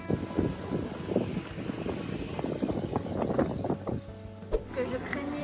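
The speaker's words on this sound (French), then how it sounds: "il y a beaucoup de vent" Strong wind buffets the microphone on a boat in Mexico, a rough, gusty rumble that rises and falls throughout with scattered knocks and creaks.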